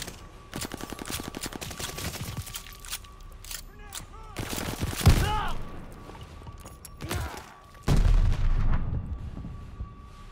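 Bursts of gunfire in the Call of Duty: Vanguard Hamburg campaign level, with rapid automatic shots and heavy booms. Loud blasts land around the middle and near the end, and voices sound between them.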